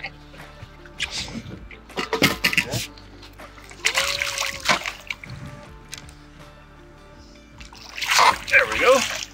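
A released fish splashes back into a Kawartha Lakes lake from a fishing boat, with several close watery splashes and trickles spread across the stretch, mixed with people talking.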